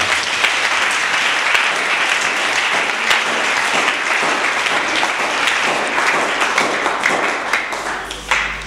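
A congregation at a French-language church service breaks into sustained applause, dense steady clapping from many hands filling the room for several seconds before tapering off near the end.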